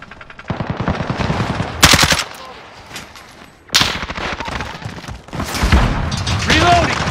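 Rapid automatic gunfire in Call of Duty Modern Warfare team deathmatch, loud bursts of machine-gun fire with booming explosions, several sharp volleys separated by brief lulls, with game voice callouts mixed in.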